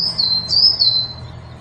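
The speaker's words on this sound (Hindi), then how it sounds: "अचानक एक चिड़िया तेज तेज चिल्लाने लगी।" A single bird calls out loudly and insistently, a bright sustained chirping phrase rising and falling over about a second and a half, with faint low rumble underneath and no voices.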